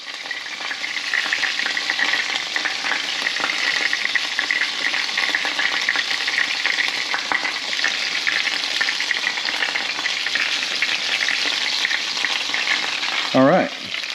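Sea scallops left to sear undisturbed in a hot frying pan, a dense continuous sizzle and crackle held close and steady, with a brief clatter near the end and no talking.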